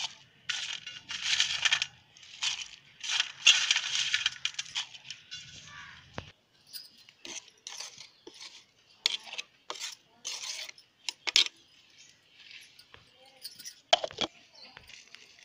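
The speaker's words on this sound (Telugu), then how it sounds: "ఇప్పుడు ఎండిన ఈ టమాటో ముక్కల్ని పౌడర్ చేసుకుందాం." Dried tomato pieces are ground into powder in a mixer jar, heard as bursts of rattling, crunching grinding separated by short pauses and a few clicks, fairly faint and close.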